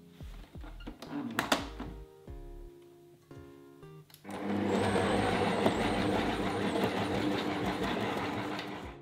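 A stand mixer kneads Liège waffle dough at low speed, a steady loud churning motor drone starting partway through and running continuously after a few scattered knocks and clatters.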